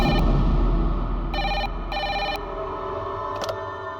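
Telephone ringing in a Bengali CID crime TV drama, three bursts of an electronic ring in a repeating pattern over low background rumble and music, with no talk.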